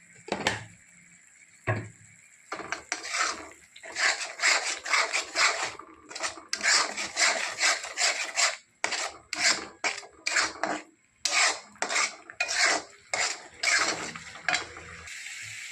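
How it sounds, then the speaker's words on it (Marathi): Spice masala with chilli powder and salt being sautéed in a pan, a long run of rhythmic scraping strokes close by, bursts separated by short pauses, with no speech. "तिखट मीठ टाकल्यानंतर सुद्धा पाच मिनटं परतून घेतले"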